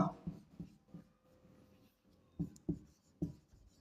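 A teacher writes on a board during an English class, a handful of short taps and scratching strokes in irregular clusters, fairly close but soft.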